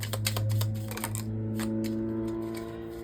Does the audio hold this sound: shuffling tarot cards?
yes